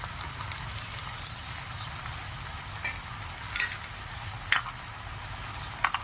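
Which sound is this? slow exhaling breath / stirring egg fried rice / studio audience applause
stirring egg fried rice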